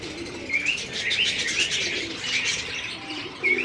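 Pigeons coo softly amid rustling and fluttering wings, a steady close-up bird chatter running throughout.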